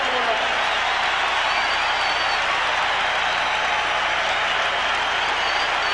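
A sellout basketball arena crowd at Madison Square Garden applauds and cheers on its feet, a loud, continuous wash of clapping and roar that stays steady the whole time.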